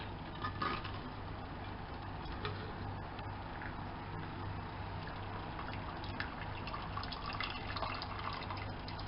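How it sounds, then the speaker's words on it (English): Water drains from a cooking pot as a continuous, faint rushing and splashing that stays steady throughout, with no voices. "Now switch off the flame and we will drain the water"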